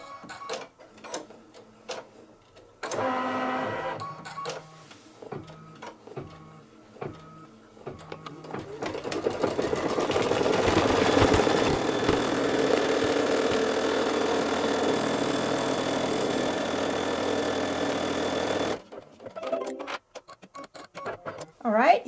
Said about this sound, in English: it is going to stitch out the first stitch, and that is a tack down for the batting